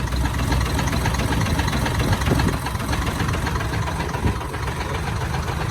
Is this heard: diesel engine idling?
yes